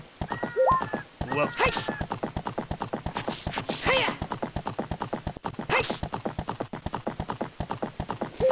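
Epona the horse galloping in Ocarina of Time, with fast rhythmic hoofbeats sounding throughout and several sharp neighs and whinnies. A voice speaks briefly over the hooves.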